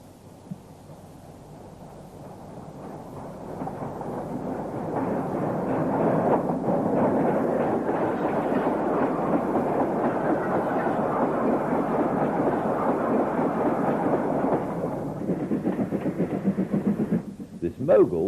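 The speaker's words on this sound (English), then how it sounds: "And a southbound class 38." A southbound British Class 38 steam locomotive passes in a heavy, continuous rumble that swells over several seconds, holds loud and close, then eases and fades near the end.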